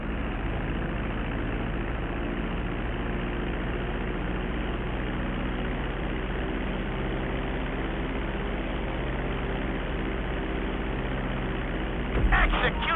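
Airplane engine in GTA V drones steadily at a low, idling pitch while the plane descends toward a runway to land, with a brief burst of louder noise near the end.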